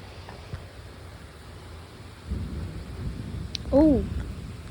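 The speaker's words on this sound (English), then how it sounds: "there's thunder" Thunder rumbling low and distant during a windy rainstorm at a house, a soft swelling roll under steady wind and rain noise, with a brief bird-like chirp near the end.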